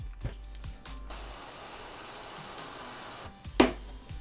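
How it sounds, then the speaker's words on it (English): An airbrush blowing a steady hiss of air over drying paint, a continuous close spray lasting about two seconds, bracketed by small handling knocks and a sharp tap. "which I always tend to speed it up with an airbrush because I don't like waiting for it"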